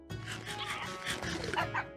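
In a Japanese-style Minecraft world, creatures mimicking a nearby dog make a rapid string of high puppy-like yelps and whimpers, close and busy for two seconds.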